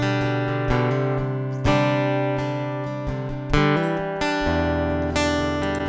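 A Yamaha acoustic guitar plugged straight in through its piezo pickup, strummed in a loop of bright, close chords with several sharp strum attacks and ringing sustain between them, with no talking.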